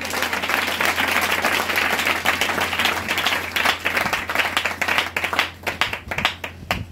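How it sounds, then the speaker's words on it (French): A church congregation breaks into sustained, loud applause, dense clapping that holds steady before thinning into scattered individual claps near the end. "Est-ce que tu peux acclamer le Seigneur?"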